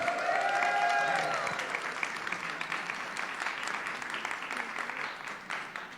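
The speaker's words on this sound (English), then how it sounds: "Please, round of applause." An audience at a leadership institute demo day breaks into applause that starts full and gradually thins out, with a brief tonal sound near the start and a few scattered claps trailing at the end.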